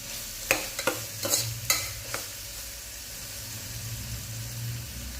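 Spices and ginger garlic paste sizzle in a pan for vegetable pulao, with several quick scraping stirs near the start, then a steady frying hiss.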